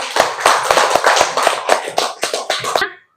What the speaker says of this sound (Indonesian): Silakan tepuk tangan dulu untuk kelompok 3.